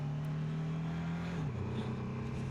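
A loud, steady BMW F450GS motorcycle engine drone holding pitch around 4,000 revs, then dropping sharply midway shifting from first to second gear, before climbing again; close and continuous.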